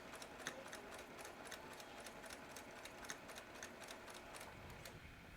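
A sewing machine stitches along a seam line with an even, rapid ticking rhythm of the needle, fairly quiet and steady with no voices.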